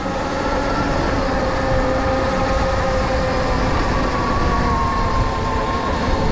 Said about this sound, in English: ripping up a hill, accelerating pretty hard.